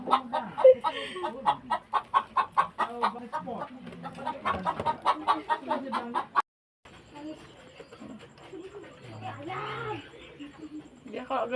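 Free-range village chickens cluck in a rapid, close series of calls at a farm garden during egg collection, with quieter clucking and people talking in the background afterward.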